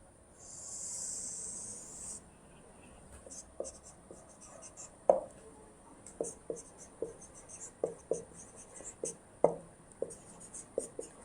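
Pen writing on paper during a geometry lesson, a series of short scratchy strokes and taps close by, with a brief hiss early on and no talk.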